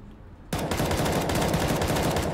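Rapid automatic gunfire crackles without a break in a Counter-Strike: Global Offensive firefight on the Overpass map. It starts abruptly after a quiet half-second and stays loud and dense.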